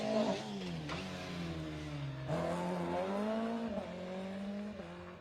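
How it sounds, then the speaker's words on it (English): A Vauxhall Nova rally car is driven hard on a junior spring rally stage, its engine revving and dropping through gear changes, rising and falling in pitch, moderately close and alone. "Peter O'Neill's throwing the car around"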